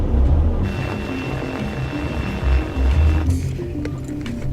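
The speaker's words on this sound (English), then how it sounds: "This, for example, is a close-range reconnaissance drone known as a DRAC." A DRAC close-range reconnaissance drone, a small hand-launched military aircraft, flies nearby with a steady propeller drone and low rumble throughout, swelling briefly louder midway with no voices.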